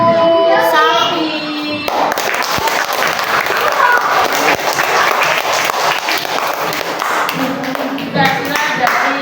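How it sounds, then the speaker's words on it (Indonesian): Schoolchildren clap in a classroom during a pencak silat lesson, a loud, dense burst of applause lasting several seconds, with a voice and an adult voice heard briefly before and after it. "Tepuk tangan untuk Sapi."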